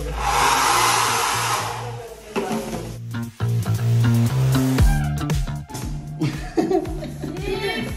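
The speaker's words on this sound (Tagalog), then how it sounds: "May pa-blower pa dito." A hair dryer blows in a resort room with a loud, steady broadband whoosh for the first two seconds, then keeps running under laughter and chatter from several people.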